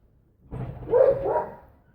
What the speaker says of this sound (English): Please try and ignore that dog.